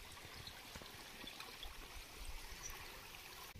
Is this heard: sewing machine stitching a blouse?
no